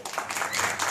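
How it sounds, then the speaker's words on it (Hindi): Brief burst of audience applause at an annual function of a physiotherapy and cerebral palsy rehabilitation centre, a short dense patter of many hands clapping. "तालियां।"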